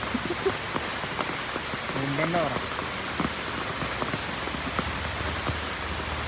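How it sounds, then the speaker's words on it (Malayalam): Heavy monsoon rain falls steadily during a fishing outing, a dense constant patter with scattered nearby drips, while a voice briefly speaks and a faint tonal call sounds midway. "നല്ല മഴ മഴ ഉണ്ടല്ലേ"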